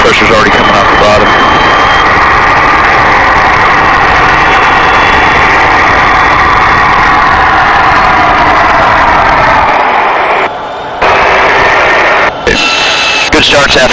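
An L-39 Albatross jet engine starting up and settling to idle, a loud steady whine and roar with broadband rumble, briefly dropping out near the end.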